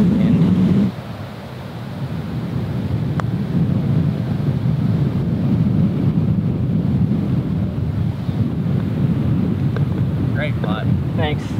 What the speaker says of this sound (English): The wind is blowing so hard it could actually affect it.